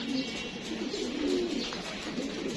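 Racing pigeons at a loft give soft, low coos that stay faint beneath a steady background hiss.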